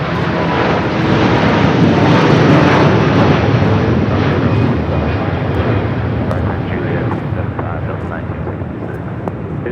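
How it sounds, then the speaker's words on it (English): An Asiana Airlines Airbus A380, flight 201 bound for Seoul, taking off at LAX with a loud, sustained broadband engine roar and wind buffeting that stays steady throughout, close and overpowering. "This is Asiana Airlines 201 taking off to Seoul on the A380."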